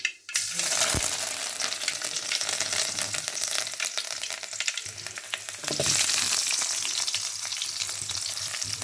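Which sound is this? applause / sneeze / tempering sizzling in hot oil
tempering sizzling in hot oil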